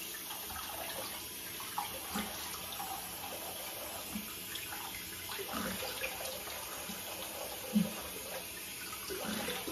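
Tap water running steadily into a sink during face washing, a faint continuous stream with light splashes and small knocks throughout.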